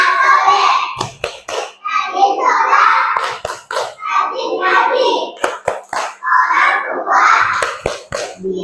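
Children in a classroom clap a rhythmic chant, sharp hand claps punctuating their loud sung voices in bursts across the clip.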